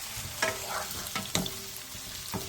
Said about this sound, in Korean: 팬에 식용유를 살짝 넉넉하게 두른 뒤 감자를 넣고 중불에서 튀기듯이 볶아주세요.